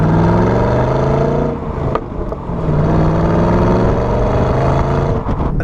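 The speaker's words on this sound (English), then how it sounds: "It's definitely quieter with the bimodal switched off." A 2016 Holden SS-V Redline manual with its bimodal exhaust switched off drones loudly from inside the cabin, a deep steady V8 hum that dips briefly and then builds again.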